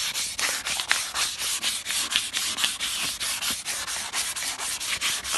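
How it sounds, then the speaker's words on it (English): A car bumper is sanded by hand with fine grit sandpaper in quick, regular back-and-forth strokes, a close scratchy rubbing that keeps an even rhythm throughout, with no talking. "So I've got to go over it with a much finer grit sandpaper first."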